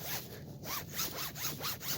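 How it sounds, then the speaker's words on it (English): A jacket zipper gets zipped in a series of quick, rasping pulls, four or five rhythmic strokes close to the mic, with no talking. "Zip off your jacket."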